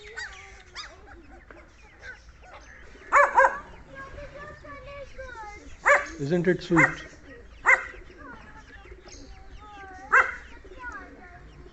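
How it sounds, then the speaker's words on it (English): Puppies outdoors under a banyan tree with geese, turkeys and chickens yip, whimper and bark in short bursts, close and moderately loud, while a person speaks softly between the yips. "A whole lot of puppies."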